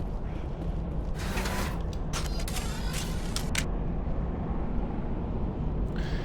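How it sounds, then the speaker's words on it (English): Video game elevator creaking and breaking down under a constant low mechanical rumble, with several groaning metallic creaks in a cluster early on and another near the end. "Now the elevator is fucking breaking."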